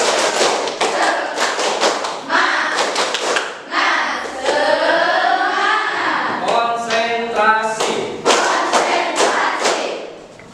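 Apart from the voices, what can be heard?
class doing rhythmic spirit clapping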